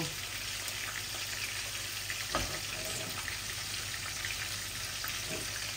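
A small amount of oil heats in a frying pan, giving a soft, continuous sizzle with one faint knock partway through.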